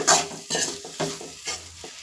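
Masala with chicken masala powder being stir-fried in a pan for avalakki egg rice, four rhythmic scraping stirs with a steady soft sizzle underneath, close and moderately loud, no talking.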